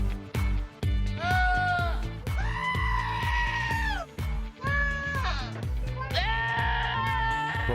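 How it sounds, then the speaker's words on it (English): Baby goats bleat repeatedly in loud, wavering cries, several overlapping calls close by, with a little talk mixed in among them. "Oh, goats, babies."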